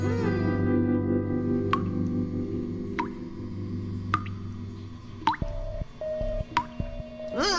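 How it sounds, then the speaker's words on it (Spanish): Water drips in a dressing room in an animated cartoon, a few separate, distinct plinks spaced about a second apart over a steady background hum, followed by squelchy watery plops. "¿qué es ese ruido? Agua."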